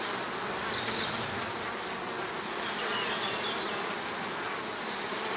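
Honeybees buzz steadily around a hive entrance as foragers return laden with pollen, a continuous close, dense hum with individual bees swelling and passing.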